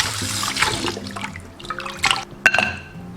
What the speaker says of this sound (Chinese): 把这个血水倒掉，我们再把排骨清洗干净。